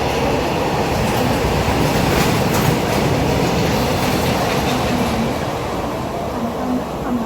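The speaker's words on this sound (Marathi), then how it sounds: "दादरची ट्रेन आता लागली आम्हाला" A Mumbai suburban local train to Dadar rumbles close by at a platform with a steady mechanical roar, faint clacking of wheels and a thin metallic squeal now and then.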